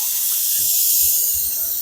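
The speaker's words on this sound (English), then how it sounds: "Spray down there in them holes." An aerosol can sprays continuously into the holes of a small block Chevy engine block during assembly prep: a loud, close, even hiss that holds for the whole stretch.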